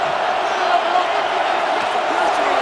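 Stadium crowd in the football video game Madden NFL 26, Bengals versus Packers, roars as a dense, steady wall of cheering noise that stays loud and unbroken throughout.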